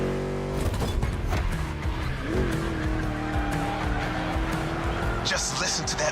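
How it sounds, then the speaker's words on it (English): A V8 race car engine in The Crew Motorfest racing game roars steadily and loudly with a rising, droning tone, accompanied by tire squeal and skidding throughout. "Just listen to that V8, like a chunky, down-tuned guitar riff."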